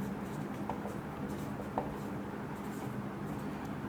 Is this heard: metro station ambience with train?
no